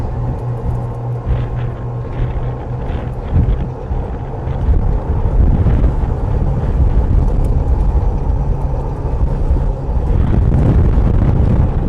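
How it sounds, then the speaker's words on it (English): Strong wind buffets the microphone at GingerMan Raceway, an open racetrack in Michigan, with a loud, continuous low rumble and gusty roar throughout. "It got really windy all of a sudden."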